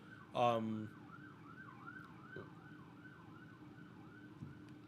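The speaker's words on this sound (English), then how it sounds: "Sirens outside my apartment door. Or not outside my door, outside the window." Emergency vehicle sirens wail with a steady rising and falling cycle outside an apartment window, distant and faint, after a brief louder burst of noise at the start.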